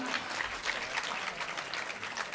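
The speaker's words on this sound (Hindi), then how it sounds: "लेकिन आप ताली बजा रहे हैं" An audience at a literary gathering in Mahuva claps steadily, a dense continuous patter of many hands filling the whole stretch at a fairly loud level.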